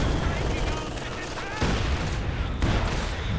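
A heavy mortar strike lands amid a dense barrage of gunfire and explosions in a Company of Heroes 2 battle, loud and continuous, with a game commentator's voice faintly mixed into the chaos.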